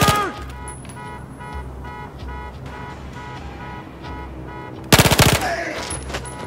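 Sustained machine-gun fire in a Battlefield 4 firefight, a dense rapid burst running throughout with a sharp, louder volley near the end, mixed with background battle noise.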